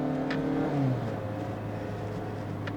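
A 2020 Mazda 2 with a modest 110-horsepower engine revs hard while accelerating out of a corner, a droning engine note that dips as a gear changes and then climbs steadily, heard from inside the car.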